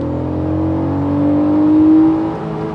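An Acura NSX engine pulls hard in second gear around 4,500 RPM, a loud, close, rising drone that climbs steadily and then eases off toward the end.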